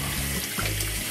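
A kitchen tap runs cold water steadily over boiled tomatoes in a pot, a loud, close, continuous gush and splash.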